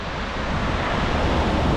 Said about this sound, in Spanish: Y aquí se puede ver el frío mar limeño.